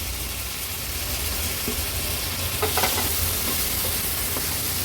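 Clam balls being sautéed in an onion-tomato masala, giving a loud, steady, dense sizzle throughout with a few faint scrapes of stirring midway.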